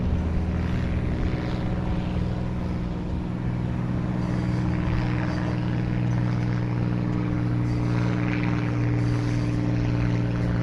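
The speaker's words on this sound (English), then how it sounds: "And another airplane." A propeller airplane flies overhead along a downtown street, its steady droning hum sustained and fairly loud throughout.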